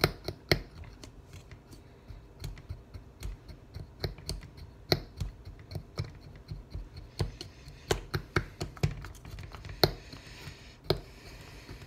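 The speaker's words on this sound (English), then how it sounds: "Mix it around there a little bit, and just take your fork and..." A fork stirs a protein shake inside a plastic shaker, producing a long run of irregular light clicks and taps against the container, fairly close and quiet, with no talking.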